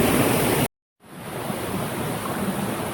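Flowing water at Bruti Waterfall near Islamabad, a dense continuous rushing hiss that cuts out briefly near the start, then returns and holds steady and close.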